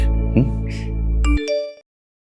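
A phone message notification chime sounds, a short bright tone that rings briefly and stops abruptly into silence, loud and close.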